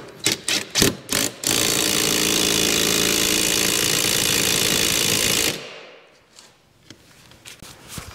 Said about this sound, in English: And I'll use the impact to put them back on